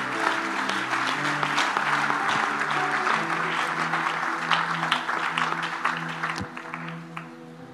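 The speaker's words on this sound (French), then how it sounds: "Maintenant, acclame." A church congregation claps and cheers loudly and steadily at a sermon, with dense sustained applause and voices tapering slightly near the end.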